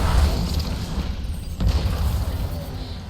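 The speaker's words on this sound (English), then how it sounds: "I can just Nova Bomb this guy" Nova Bomb explosion in the Destiny video game, a deep booming blast with rumbling low end followed by a second heavy impact and lingering combat noise.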